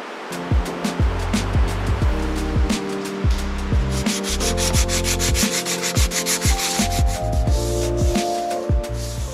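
Steady abrasive rubbing of sanding against a hard sailboat hull, rhythmic strokes repeating throughout, close and loud with no talking.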